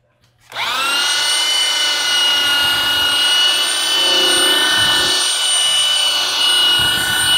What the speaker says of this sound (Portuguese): Vou utilizar a politriz.